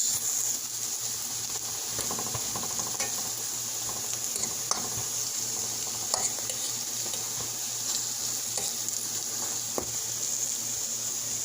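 Ripe plantains fry in a pan for a Jamaican-style breakfast, giving a steady bright sizzle throughout. Occasional utensil scrapes and light clinks sound against the pan, close and moderately loud with no talking.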